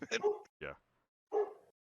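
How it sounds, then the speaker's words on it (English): Dog barks and yips in three short bursts, fairly close, during a podcast recording, with voices around them. "Lop Lop, stop barking."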